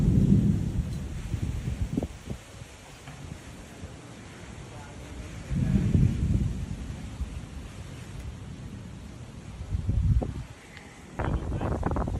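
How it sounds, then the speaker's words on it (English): Low rumbles of thunder roll in several swells during a big storm, mixed with wind and microphone buffeting, moderately loud outdoors with some crackling at the end. "You got a big storm?"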